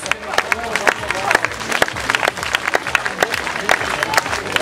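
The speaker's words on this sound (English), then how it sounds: "one more time big big applause for these are our veterans" Steady audience applause for veterans at a bodybuilding competition, many hands clapping, a busy crowd sound that swells slightly, with a voice faintly mixed in.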